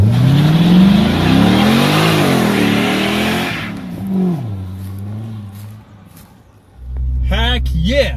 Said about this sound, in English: Heck yeah! It can do a burnout.